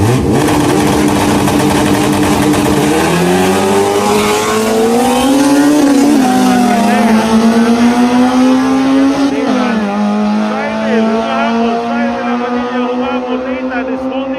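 Drag race cars launch at a Pro Drag Class B event, a white Honda Civic and a Nissan Sentra, with loud revving engines climbing through rising and shifting pitches close by and an announcer talking over them.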